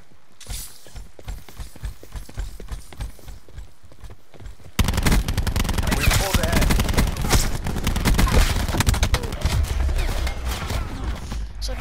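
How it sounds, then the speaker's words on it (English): Burst-fire gun shooting in the Call of Duty video game, with quick clusters of sharp shots, quieter at first and then a dense, loud stretch of rapid gunfire with mechanical clatter continuing to the end. "It's not fully automatic, it's burst, basically."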